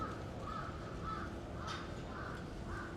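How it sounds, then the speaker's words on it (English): Crows cawing in Shibuya, Tokyo, a city street area; several harsh caws repeat at a fairly even pace from a moderate distance over a steady urban background hum. "Well, you can hear the crows."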